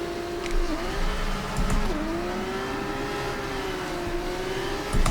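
F2 car in F1 24 at a race start, engine holding a high, steady pitch that climbs and dips briefly through gear changes, close and loud with no talk.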